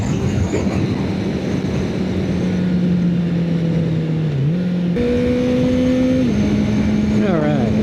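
Steady roaring headwind buffeting a small clip-on mic on a riding motorcyclist, broadband rushing noise with an engine drone that shifts pitch partway through, loud and continuous, with a voice talking underneath.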